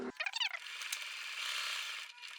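A sewing machine stitches three sides of a plain fabric piece for a hanbok-style royal robe, heard as a quick, rattling mechanical whir that runs steadily for about two seconds, fairly close and alone.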